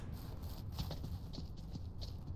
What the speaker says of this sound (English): I bet the other horse is coming here.